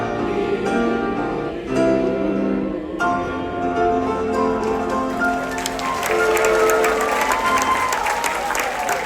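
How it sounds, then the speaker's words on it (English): Audience applause breaks out aboard the Holland America Oosterdam cruise ship for an international choir at a Christmas show, the clapping swelling over lingering musical tones from the choir's final notes and growing denser toward the end. "applause for our international choir, everybody"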